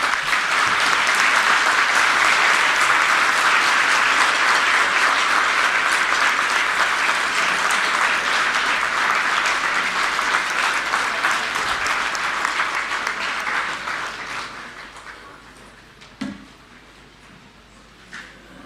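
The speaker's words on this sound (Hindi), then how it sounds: "सभी एक बार खड़े होके पूर्व शिक्षा मंत्री मनीष सिसोदिया जी के लिए और मुख्यमंत्री साहब के लिए एक बार जोरदार ताली बजाएं।" A standing audience at a Delhi government school event bursts into sustained, dense applause that holds steady for a long stretch, then gradually thins out and fades, leaving a few scattered claps at the end.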